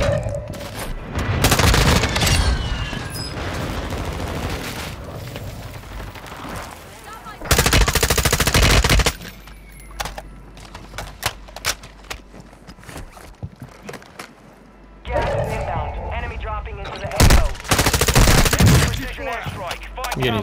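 Call of Duty: Modern Warfare II gunfire comes in loud sustained machine-gun bursts with scattered single shots and booms between them. Players talk now and then through the firefight.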